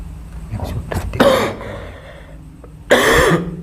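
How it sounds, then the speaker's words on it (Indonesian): A man coughs and clears his throat in two loud, close bursts, the first a cluster of short hacks and the second a single rough cough after a pause. "saya sedikit batuk"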